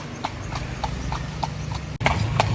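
Hooves of a horse pulling a passenger cart clip-clop in an even, steady trot on a street in Bukittinggi, West Sumatra, close and clear with traffic noise beneath.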